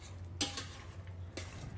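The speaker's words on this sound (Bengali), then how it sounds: "কিছুক্ষণ নেড়ে চেড়ে মাংসটা চুলা থেকে নামিয়ে নেব।" Beef and potato curry stirred in a pot, giving two sharp scraping clinks of a spoon against the pot about a second apart over a low steady hum, with no talk.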